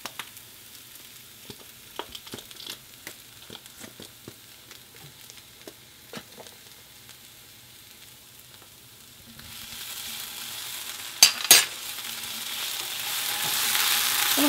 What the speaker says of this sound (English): I'm going to saute that until everything starts to turn brown.